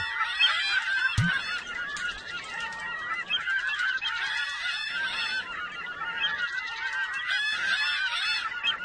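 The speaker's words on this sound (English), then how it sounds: "So I realize the seagulls are pretty noisy" Seagulls call noisily on an island in the Second Life virtual world, a loud, near, continuous chorus of overlapping squawks and honking cries with one sharp knock early on.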